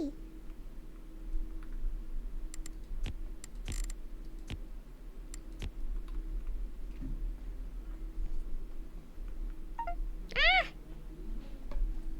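A female house cat meows once, a short rising call standing out near the end over a low steady room hum, with scattered faint clicks and some soft talk in the room earlier.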